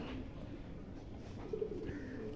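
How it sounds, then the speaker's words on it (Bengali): Blue barless Beauty Homer pigeons coo softly in low, throaty murmurs against a quiet background. "ব্লু বার্লেস কালার বিউটি হোমা একদম ইম্পোর্টেড কোয়ালিটির কবুতর"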